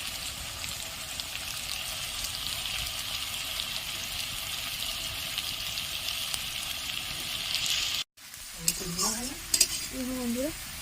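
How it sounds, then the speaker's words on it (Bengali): Potatoes frying in a pan give a continuous close sizzle with scraping stir sounds. The sizzle drops out abruptly near the end, then brief clatter and scraping from a utensil follow. "একদম লাল লাল করে ভেজে নেবো আলুগুলো।"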